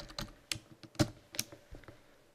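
Computer keyboard keys being typed in a short burst, crisp irregular clicks close up with no talking, while logging into the admin area of a web-to-print store site.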